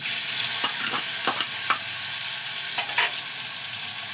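Soybean paste ground with ginger and green chili frying in a pan gives a steady close sizzle, broken by several short scraping stirs, with no voices.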